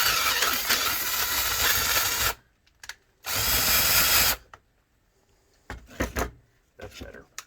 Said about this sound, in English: I'll do the little grinding here to open that up a little bit so I can get the bolt in there